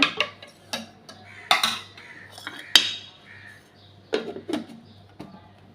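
A spoon clinks against a glass while Tang drink powder and sugar are stirred together at home. The clinks come in short, sharp, irregular bursts, close by, with quiet gaps and no talking.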